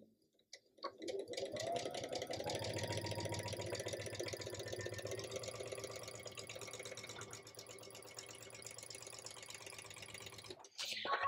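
A sewing machine runs a continuous quarter-inch seam through quilting fabric for a sampler block, steady close whirring and rapid stitching for about ten seconds before stopping.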